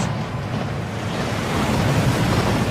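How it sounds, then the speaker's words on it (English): Inside the Gringotts vaults of the Hogwarts Legacy video game, a waterfall roars in a dense, steady rush of falling water that stays loud and unbroken, with no talk over it. "That waterfall washes away all enchantments."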